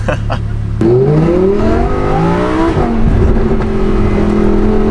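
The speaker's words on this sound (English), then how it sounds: "I'll do another acceleration to see how low we go" Lamborghini engine revving under hard acceleration, loud and close, with a rising multi-tone howl that climbs, dips briefly at a shift, then settles into a steady drone as a voice speaks over it.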